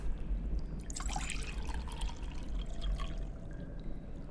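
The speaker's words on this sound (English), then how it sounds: "I've collected some water in the pot." Water trickles and splashes into a small clay pot in a point-and-click adventure game, a soft pour with light drips over a low background rumble.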